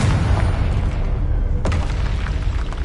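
A Confringo blasting spell explodes in the Hogwarts Legacy video game, a loud, dense booming roar that fills the whole stretch, with a sharper crack partway through.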